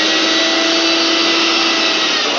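A kitchen mixer grinder runs with a steady, loud motor whine and no break, heard alone and close, with no voices.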